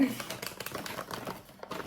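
A plastic bag crinkles and rustles in quick, irregular bursts close by, with voices talking over the crackling.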